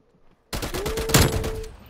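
A loud burst of automatic gunfire in Call of Duty: Black Ops Cold War, erupting suddenly after near silence and rattling rapidly for over a second before fading.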